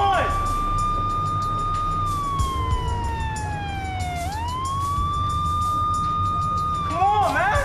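A police siren wails steadily, dipping and rising in pitch, fairly close, over a busy background with a voice briefly at the end.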